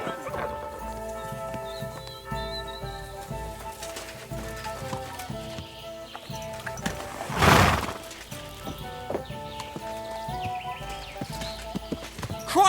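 Horse hooves clip-clopping in the medieval video game Kingdom Come: Deliverance II, steady hoofbeats under game music with a loud whinny or snort midway.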